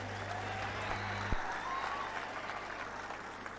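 Audience applause offered as a tribute at a TRS party foundation day gathering, a steady wash of clapping from a large crowd that holds evenly through the moment, with a low hum under it.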